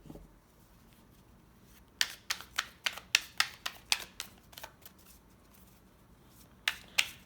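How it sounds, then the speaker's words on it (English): A tarot card deck is shuffled by hand without riffling, giving a run of sharp, close slaps and flicks in quick bursts after a quiet start, with no talking. "So, this is how I shuffle my deck."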